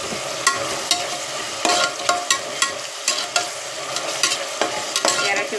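Mint and coriander leaves being stir-fried in a pan, with a steady sizzle broken by repeated sharp scraping strokes of a spatula at an even rhythm, close and clear with no talking.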